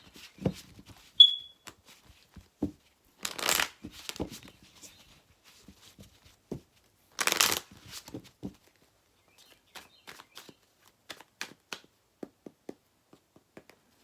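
Chakra cards are handled and shuffled in a quiet room: scattered soft ticks, taps and flicks, with two longer bursts of riffling around the middle, close and fairly faint, no speech.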